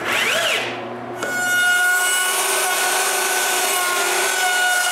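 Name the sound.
screwing plywood blocks onto workbench pieces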